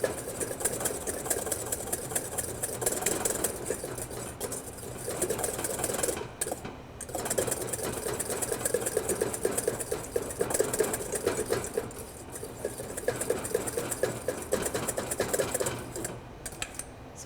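Hollandaise sauce being whisked by hand in a bowl, a continuous close scraping and swishing with rapid rhythmic strokes and a couple of brief pauses, moderately quiet, no voices.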